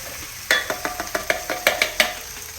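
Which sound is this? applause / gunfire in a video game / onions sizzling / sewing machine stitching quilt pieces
onions sizzling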